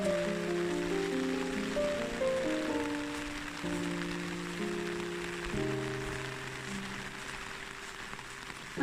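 Rain falls steadily on old ruins and foxglove flowers on a wet summer day, a soft continuous hiss that sits beneath a gentle melodic music bed throughout.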